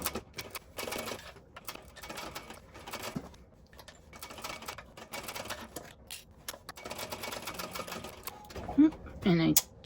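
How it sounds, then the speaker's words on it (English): A sewing machine stitches a bag lining seam in quick bursts of rapid mechanical clatter separated by short pauses. Someone speaks near the end. "I'm going to stitch across this one side to the other, back stitching at the beginning and the ending of the seam."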